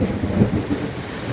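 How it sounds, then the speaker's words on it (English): Heavy rain pours down in a dense, steady wash with a low thunderous rumble underneath, close and fairly loud. "there's a lot of rain come down"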